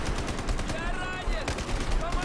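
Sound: shotgun fire in the video game Battlefield 4

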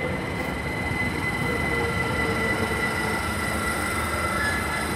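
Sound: Class 387 train passing through Cholsey station

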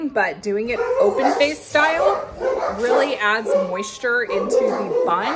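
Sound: dogs barking in the background

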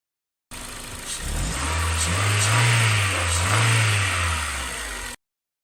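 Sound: car engine running and revving

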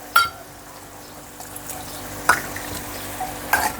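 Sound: water being poured into spice masala in a pan

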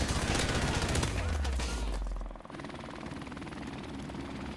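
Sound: friendly support helicopter in Call of Duty video game

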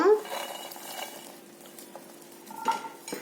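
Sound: stirring cumin and fried garlic for mango pickle

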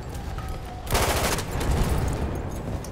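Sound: explosions and gunfire in Battlefield 1 video game

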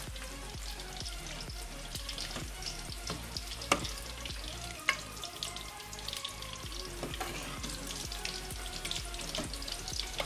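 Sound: stirring fried pakoras into kadhi

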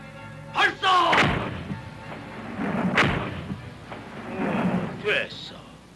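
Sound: cannon fire in a film battle scene

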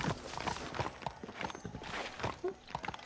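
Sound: horse hooves in a video game

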